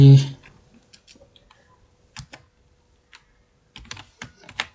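Typing on a computer keyboard while entering a command in a terminal on Windows: sparse, close key clicks, scattered singly at first, then a quicker cluster of taps near the end.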